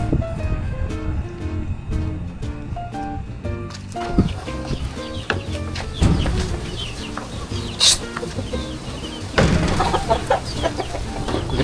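Chickens cluck and squawk close by in a steady chorus, with occasional louder calls and some wing flapping, no speech.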